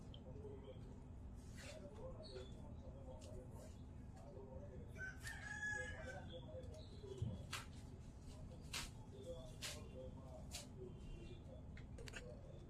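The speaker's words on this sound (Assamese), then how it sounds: "আমাৰ মুৰ্গী আহিছে," Chickens at a rural home, with one rooster crowing briefly midway over a steady outdoor background of bird calls and hum, faint and somewhat distant.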